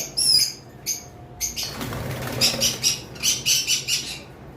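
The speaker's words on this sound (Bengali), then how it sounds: "এই অনেক বেশি উড়াউড়ি করতেছে কারণ পাখিগুলো বেশি ভয় পাচ্ছে" Double factor violet mask lovebirds flap their wings in repeated bursts as they fly around a cage in fear, with sharp squawks and chirps between the wingbeats, close and fairly loud.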